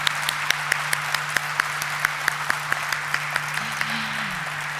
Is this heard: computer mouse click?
no